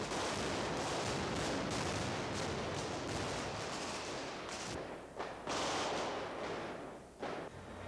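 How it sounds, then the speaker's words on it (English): Staged battle-scene gunfire from bazookas and automatic rifles on a film set, a dense, loud, continuous hail of shots and blasts that thins briefly near the end. "Finally, the scene is shot with the bazookas and the automatic rifles, resulting in a hail of gunfire."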